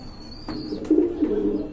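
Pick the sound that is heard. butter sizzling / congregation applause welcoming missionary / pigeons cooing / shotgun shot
pigeons cooing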